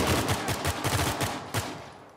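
Rapid bursts of gold gun fire in the Uncharted 4 video game, a fast rattling string of loud close shots that fades with a final stronger blast near the end.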